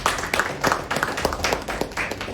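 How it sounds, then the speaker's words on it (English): Audience at a book launch gives a round of applause, a modest, uneven patter of individual claps from a small group, close and clearly separated. "to give him a round of applause."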